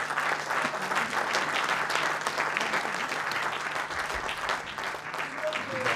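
An audience applauds steadily and continuously at a ceremony, dense clapping from many hands at moderate distance, with no pauses.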